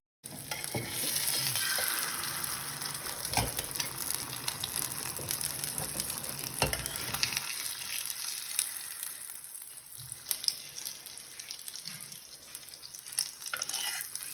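Leftover rotis fry in a pan with a steady, close sizzle and crackle, louder at first and easing off partway through, broken by a few soft clinks and stirring scrapes, no talking.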